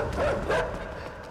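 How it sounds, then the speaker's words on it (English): A dog in the video game INSIDE gives two short barks in quick succession, moderately loud over a low ambient background. "And there's the dog."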